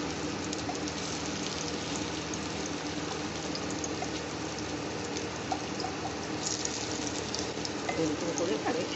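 Cabbage manchurian balls frying in hot oil in a home kitchen, a steady dense crackle and sizzle running continuously and fairly loud throughout, with no voices.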